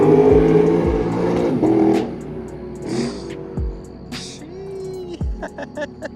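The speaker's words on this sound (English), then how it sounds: "That transmission shift," A supercharged Shelby revs hard and shifts gears, engine pitch climbing then dropping sharply several times in quick succession, loud and close, with brief voices between shifts.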